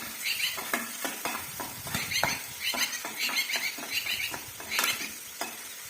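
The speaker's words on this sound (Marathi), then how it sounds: "चांगला कांदा परतून घ्यायचा" Onion sautéing in a pan for sambar, with steady sizzling and repeated scraping stirs of a spatula against the pan, close and moderately loud, no talking.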